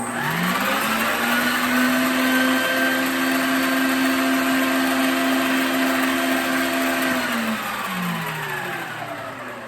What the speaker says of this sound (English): So this mixer is really powerful, so I don't have to mix it that long